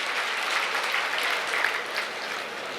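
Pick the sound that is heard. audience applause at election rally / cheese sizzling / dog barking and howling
audience applause at election rally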